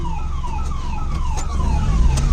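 Ambulance siren sounding close by in road traffic, its tone sweeping downward again and again in quick repeated cycles over a low rumble of engines.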